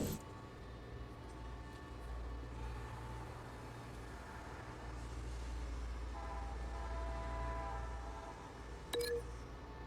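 A modified train car in the Batman Telltale video game rumbles steadily with heavy low-end rolling noise and some metallic ringing, with a brief sharp burst near the end.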